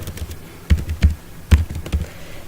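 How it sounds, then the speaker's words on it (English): Keys on a computer keyboard clack in a few quick, uneven bursts of sharp taps, close and clear with no talking. "Here I am typing"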